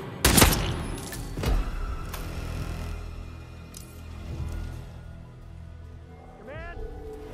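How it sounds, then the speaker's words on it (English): Gunfire bursts in the video game Hitman 3, a sharp loud volley near the start followed by further scattered shots and thuds, with game voices and ambient sound running throughout. "Oh, shit! Gunshot!"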